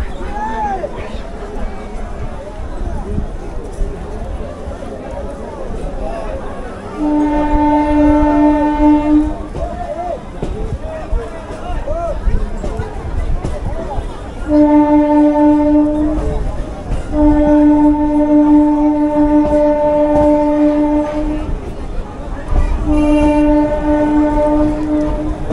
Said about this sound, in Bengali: তো সোনারপুর জংশন ছেড়ে দিচ্ছি,